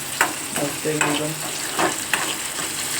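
Onion fries in a pan for a Malvani-style prawn masala, with a steady sizzle and several sharp scraping stirs of a spoon at irregular intervals, heard up close without speech.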